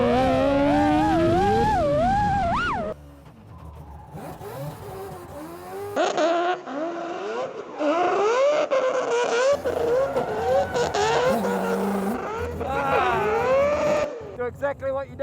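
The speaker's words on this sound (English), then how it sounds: "Don't be shy on the revs" Drift car driven by a driver, engine revving hard and wailing up and down in pitch with bursts of tyre noise, loud and close, occasional voices between.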